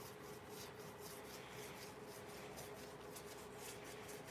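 Sealer rubbed steadily into a power-carved wooden wall hanging, a continuous close scratchy rasp of cloth on wood with no speech.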